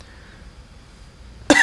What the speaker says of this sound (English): Because I have been like coughing and sniffling.